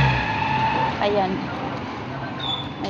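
A vehicle goes by on a road beside people walking with a child to buy bread, a broad engine and tyre rumble swelling and fading under steady background noise.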